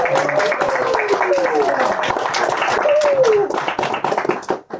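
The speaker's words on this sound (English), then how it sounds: "Let's have a nice round of applause to Janine, Evelyn, and Karl" A house-concert audience gives a round of applause, steady clapping that fills the room at close range, with a voice speaking over it before the clapping thins out near the end.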